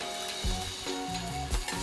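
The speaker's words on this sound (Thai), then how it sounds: "ก็ทำการผัดคลุกเคล้าให้เข้ากัน หรือว่าผัดจนกว่าหอมใหญ่จะ นิ่มตัวลงนะครับ" Chopped onion sizzles steadily in a hot pan as it is stir-fried for tuna fried rice, with a few louder clatters of the spatula against the pan; no talking.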